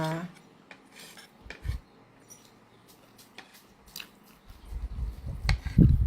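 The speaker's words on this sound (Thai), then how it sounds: "กินข้าวกับพัดหมี่โคราชค่ะ" Cutlery clinks and scrapes against dishes in scattered taps, with soft chewing and handling noises close by during a Thai meal of rice, Korat-style stir-fried noodles and catfish soup.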